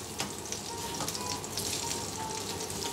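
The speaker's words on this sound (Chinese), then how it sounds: "煎咗2分钟，咁咧就反到去另一边啦" Lamb ribs pan-frying for a braised dish give a steady, close crackling sizzle with fine spattering pops running the whole time, and no talk over it.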